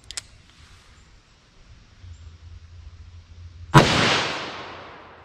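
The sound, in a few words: gunshots from S&W Model 69 .44 revolver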